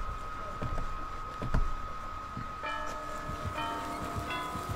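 A bell toll rings out in the horror game Dead by Daylight, sustained ringing tones layered over muffled game ambience, with a brighter cluster of chimes swelling partway through.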